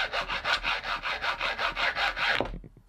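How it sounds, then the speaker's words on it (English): A hacksaw cuts through a 1/8-inch brass rod set in a small wooden finger plane, a steady back-and-forth rhythm of about a dozen close, rasping strokes that stops abruptly near the end. "cut off the excess using a hacksaw"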